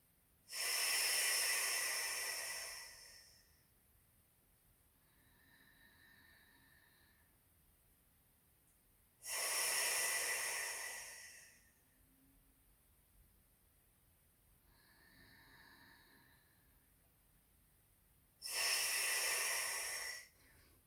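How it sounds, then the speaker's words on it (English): A person breathes laterally during a Pilates exercise, with three long forceful exhales and softer inhales between them. The breaths are close and slow, spaced about nine seconds apart, with no talking. "roughly for 4 to 5 lateral breaths"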